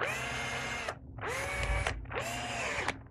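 Power driver running a truss head screw down into a belt attachment: three close, loud whirring bursts, each revving up as the screw cinches tight, with short pauses between.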